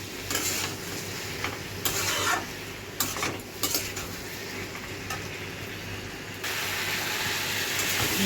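Spices get mixed into food frying in a pan, producing a continuous sizzle with repeated spoon scrapes and clinks against the metal, loud and close throughout, with a low steady hum underneath.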